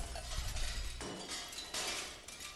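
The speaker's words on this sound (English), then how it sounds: "he broke the glass above me" In the video game Stray, a pane of glass shatters overhead with a sharp crash, followed by a bright spray of tinkling shards that scatter and fade over a couple of seconds, alone without talk.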